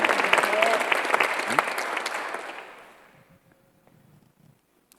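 A church congregation bursts into loud applause during a Sunday worship sermon, the clapping thinning and fading out over a few seconds until near silence.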